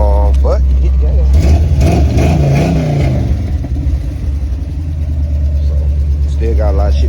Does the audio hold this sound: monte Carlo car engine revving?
yes